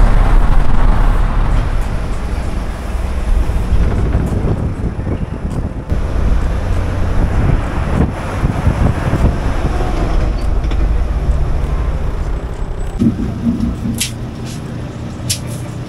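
City bus on a route around central Bandar Seri Begawan, Brunei, with loud continuous engine and road roar throughout, rattling cabin noises and a few sharp clicks, and no talk.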